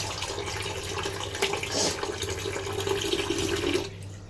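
Tap water pours steadily while mutton is washed at night in a home kitchen, a close, continuous rushing splash with brief surges that cuts off near the end, no speech.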